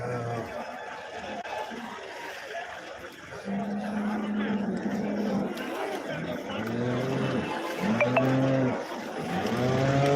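Cows at a cattle market give several long, deep moos, some overlapping and close by, against busy crowd murmur and someone speaking.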